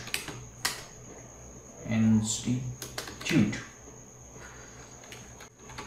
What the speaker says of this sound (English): We'll simply type Guru Institute